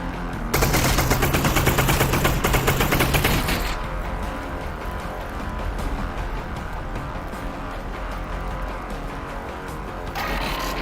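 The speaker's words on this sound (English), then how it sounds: "Time for the SMG, I think." SMG fire in Half-Life Alyx: a loud, rapid automatic burst rattles for about three seconds, then drops to a lower, sustained roar of rattling noise, with another sharp surge near the end.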